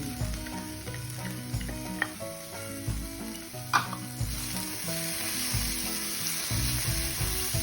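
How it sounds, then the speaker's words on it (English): Chopped onion frying in a pan for a corn gravy, a steady close sizzle with stirring scrapes and occasional louder crackles, no voices. "now you need to fry it well because the raw onion taste would not be good"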